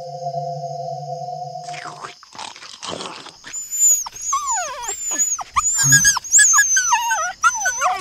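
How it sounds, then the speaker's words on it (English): Two stray dogs barking near a home, a run of sharp, rising and falling yelps and barks coming close and loud after a few seconds of a steady electronic tone and some rustling. "there have been two stray dogs near my home that bark incessantly every day"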